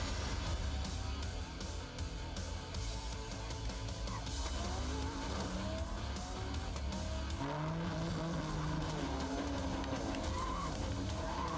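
Arcade racing game Cruis'n Blast, with steady revving engine drone, squealing tires and skids playing at moderate level as cars race and collide, accompanied by game music.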